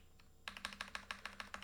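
Typing on a computer keyboard while coding in Python: after a quiet start, about nine evenly spaced, crisp keystrokes tap out in a regular rhythm, close and distinct.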